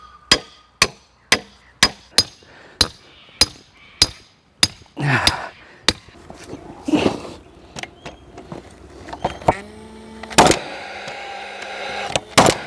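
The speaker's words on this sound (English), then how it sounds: "I'm going to hammer in the peg at this point." A wooden peg for slab formwork is driven into the ground by hammer, with about a dozen sharp, evenly spaced blows, followed by irregular knocks and scraping, close and loud.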